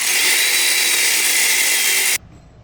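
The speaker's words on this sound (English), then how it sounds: "This is just like a 3-inch extension with a deep 8mm on a 3/8 Milwaukee cordless ratchet." A Milwaukee 3/8 cordless ratchet with a deep 8mm socket on a 3-inch extension removes intake manifold bolts on a Ram 5.7L Hemi, giving a loud, steady motor whir for about two seconds before cutting off abruptly.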